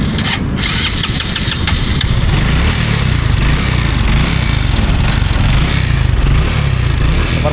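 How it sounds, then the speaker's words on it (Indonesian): A motorcycle engine runs steadily after floodwater, with a continuous loud low rumble and no talk over it; the start suggests it has just fired up. "Motor masih lancar ya, masih lancar."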